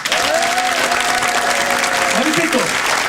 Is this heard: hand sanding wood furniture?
no